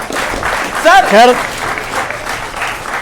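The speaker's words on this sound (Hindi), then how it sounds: "बच्चों जरा तालियां।" Children clap together in a brief burst of applause during a Delhi elections discussion, with a voice talking over the clapping as it fades.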